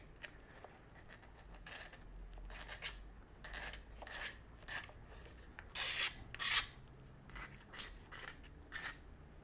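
A Les Paul pickup ring being sanded with 120-grit paper, close and fairly quiet, with repeated rasping strokes in an uneven back-and-forth rhythm and no talk.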